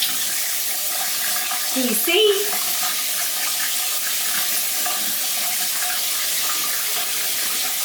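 A shower head sprays running water in steady, even hiss throughout, with a brief voice speaking over it near the start.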